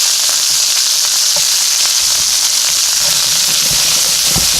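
Broccoli sizzles in a hot pan for a pork stir fry, a steady close-up frying hiss with faint crackles and pops throughout and no talking.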